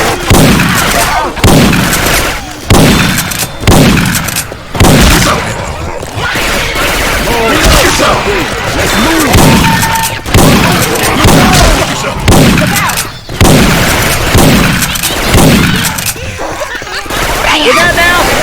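Weapon fire from the Syphon Filter games sounds inside Left 4 Dead 2, with loud heavy booming shots at an irregular rhythm across a zombie fight and game character voices talking between and under the bursts.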